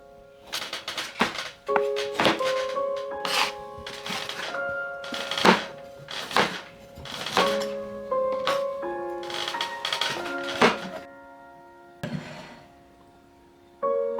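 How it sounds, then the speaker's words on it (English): Parsnips are chopped with a knife on a board, a series of sharp, irregular chops over steady background music. "let me chop them"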